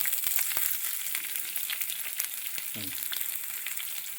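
Finely chopped shallots frying in oil for pineapple pachadi: a soft, fairly quiet sizzle with scattered crackles and a brief clink, steady for a few seconds.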